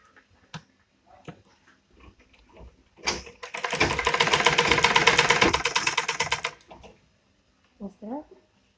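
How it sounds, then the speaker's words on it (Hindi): A sewing machine stitches a small night suit for a Bal Gopal figure in one steady, rapid, rhythmic run of about three seconds. Quiet handling sounds come before and after it, up close. "दोनों को हम इस तरह सिलाई करेंगे"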